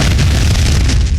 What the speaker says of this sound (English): For explosion sounds, I used a bass drum